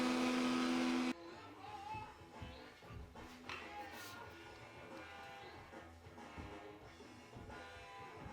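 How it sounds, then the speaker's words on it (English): A router fitted with a pattern bit trims white oak pieces for a treasure chest. A loud, steady motor whine lasts about a second, then drops to quieter rustling shop noise. "using a pattern bit to cut them down to size"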